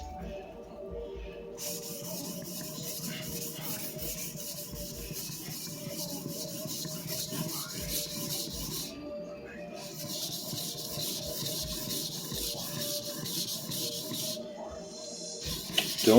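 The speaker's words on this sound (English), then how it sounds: "But let's keep sharpening" A freshly restored sujihiki knife is sharpened on a whetstone, steady back-and-forth scraping strokes repeating in bursts with brief pauses between, close and fairly quiet.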